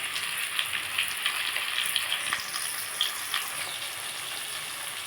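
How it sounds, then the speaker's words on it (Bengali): Cauliflower fries in a pan with a steady, close hiss of crackling oil, small pops scattered throughout and the sizzle continuing without a break. "আমার ফুলকপিটা ভাজা ভাজা হয়ে এসছে"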